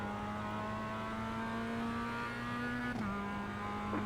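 Race car engine in the iRacing sim, a steady high harmonic drone holding near constant pitch, then a brief drop as the car shifts or lifts, loud and continuous with no voices.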